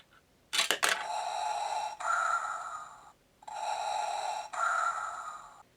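A Darth Vader bust coin bank from Star Wars merchandise plays its mechanical breathing sound effect after a clink, with three long, loud hissing breaths in a steady in-out rhythm and short pauses between them.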